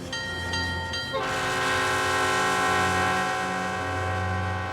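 A train passing near Dallas, Texas sounds a loud, sustained horn over the low rumble of rolling rail cars, the horn chord swelling in and holding steadily throughout.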